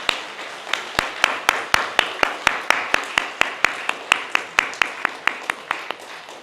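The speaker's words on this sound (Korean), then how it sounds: "우리 잠깐 자리에서 일어나실 때 우리 격려의 환영의 박수 한번 하도록 하겠습니다" A church congregation applauding to welcome first-time visitors at an Easter Sunday service, a steady rhythmic clapping of about twenty even beats, fairly close and clear, with a faint room hum beneath.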